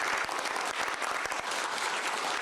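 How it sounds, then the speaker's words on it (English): Dense applause from attendees at a South Korean government meeting honoring the Parasite cast and crew, a steady burst of many hands clapping, even and sustained throughout. "South Korea's president starting a government meeting with applause for cast and crew of Parasite"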